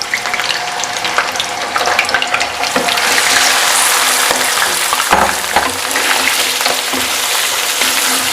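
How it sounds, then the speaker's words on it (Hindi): Beef pieces dropped into a cup of hot oil for nihari, a loud, dense, crackling sizzle that holds steady at close range with occasional knocks, and no one talking. "ऑयल डालेंगे और साथ ही हम अपना ये गोश्त डाल देंगे"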